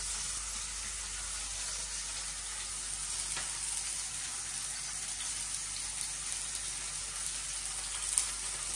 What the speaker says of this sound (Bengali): প্যান বসাই দিচ্ছি, তেল দিয়ে দিচ্ছি। এখন পেঁয়াজ কুচি দিয়ে দিতেছি।